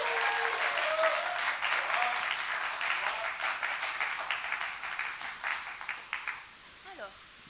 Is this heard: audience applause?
yes